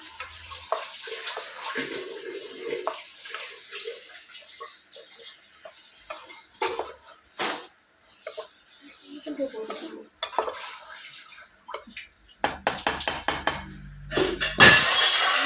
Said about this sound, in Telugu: ఒక ఫైవ్ మినిట్స్ ఫ్రై చేసుకున్నాం కదా ఒక వన్ స్పూన్ కారం పొడి వేసుకుందాం దీన్ని ఒక్క నిమిషం కలుపుకుందాం